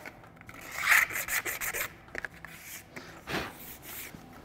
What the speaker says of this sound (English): You can just kind of take it and scrape them off.